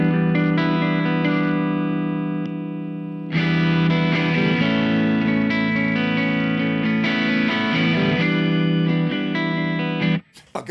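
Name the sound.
electric guitar through a real amp with pedals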